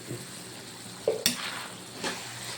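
A spoon stirs sautéed eggplant in a pan, with soft sizzling under a couple of brief scraping clinks, quiet and close.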